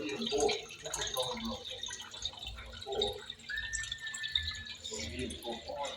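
Water dripping and trickling from a freshly cleaned old well, intermittent splashes and drips heard close by while people talk over it.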